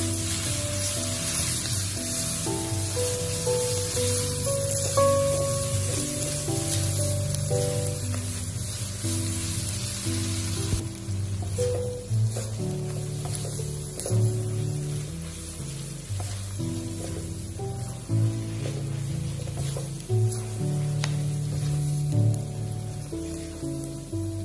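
Cabbage and short-cut glass noodles stir-frying in a wok make a steady close sizzle throughout, with occasional scraping and tossing sounds and no talking.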